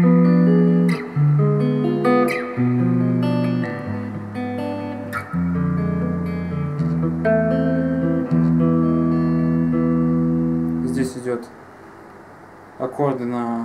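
Guitar plays a section: rich, sustained chords changing in a slow, repeating pattern, close and fairly loud, with a short pause and a few sharp strummed accents near the end.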